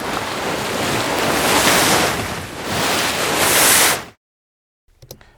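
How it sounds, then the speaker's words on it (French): Heavily processed ocean waves with only the bright hiss kept, surging loud and steady for about four seconds, then cutting to near silence before a faint crackle near the end. "j'ai quand même mis des vrais sons de vagues."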